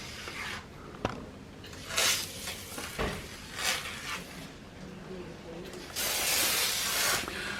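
Water from a hose sprays and hisses over a split inverter air conditioner unit, rinsing off cleaning spray in irregular bursts, with the longest and loudest burst near the end, under occasional quiet talk.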